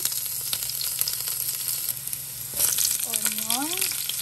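Garlic frying in hot oil in a pan: a steady, close sizzle runs throughout, with a brief tonal squeak near the end.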